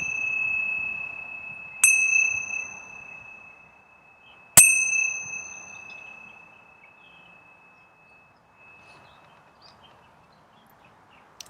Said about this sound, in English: preparing to open your eyes as I ring the bell